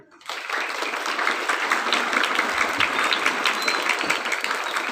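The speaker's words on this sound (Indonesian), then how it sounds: "Tepuk tangan untuk santri." Crowd applause for santri students at an Indonesian Independence Day flag ceremony at an Islamic boarding school, bursting in abruptly after a brief quiet and continuing as steady, full clapping from a large outdoor gathering.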